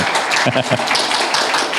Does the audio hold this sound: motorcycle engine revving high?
no